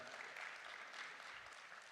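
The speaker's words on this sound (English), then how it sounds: "A round of applause for Zach, ladies and gentlemen." A summit audience at the Africa Fintech Summit in Accra claps for a speaker. The applause is dense and sustained, a steady wash of many hands heard from a distance, with no talk over it.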